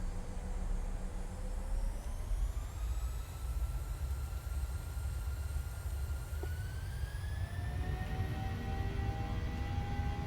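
A PMDG 737 spooling to takeoff power in a flight simulator, a loud steady jet engine roar with rising whining tones climbing in pitch throughout, no talking.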